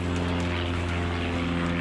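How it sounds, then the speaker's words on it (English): A helicopter flying near a golf club in New Zealand gives a steady, loud engine and rotor drone that holds unbroken through the whole stretch, with no voices. "I must stay away from the helicopter."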